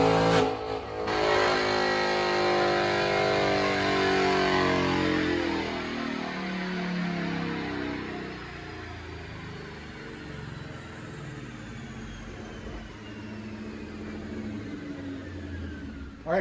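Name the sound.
2019 Roush Mustang RS3 with long tube headers revving on dyno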